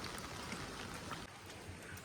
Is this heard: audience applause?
no